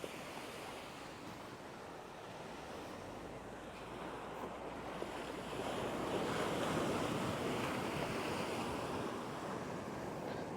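Sea waves wash steadily onto the eroding shore at Kalmunai, a continuous close roar of surf mixed with wind noise on the microphone that swells louder in the second half, with no talking.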